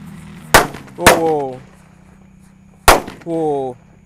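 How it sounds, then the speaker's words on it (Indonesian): Red Disco Laprador Happy Flower fireworks, five lit together at night, give sharp loud bangs and pops with short whistling bursts in between, close by. "Selanjutnya kita nyalakan Disco Laprador Happy Flower warna merah. Ini kita menyalakan 5 sekaligus ya."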